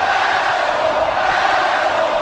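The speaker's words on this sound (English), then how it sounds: "This crowd, the All-State Arena, is getting all over the general manager." Dense arena crowd at the All-State Arena roaring and jeering the general manager, a steady, loud wall of many voices with no break, close and enveloping.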